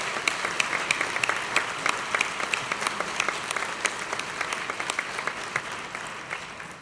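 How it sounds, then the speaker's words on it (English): Audience applause at a radio hall of fame induction ceremony, a steady wash of many hands clapping with sharp individual claps standing out, sustained throughout at moderate distance. "And you can give them all a round of applause."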